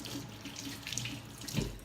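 Running water from a kitchen tap as fingers are rinsed under it: a steady close splashing stream that holds for the whole stretch, with no talking.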